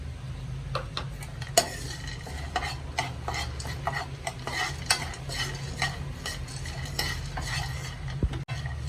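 Peanuts roasting in a dry pan make a close, rhythmic rattle and scrape as they are stirred repeatedly over a low steady hiss, with sharp clicks of the utensil against the metal and no speech.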